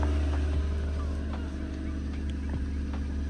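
A 1997 Toyota Soarer with a 1JZ-GTE engine idling on its stock exhaust just after a cold start, giving a steady, low, continuous rumble with no revving, close and unbroken.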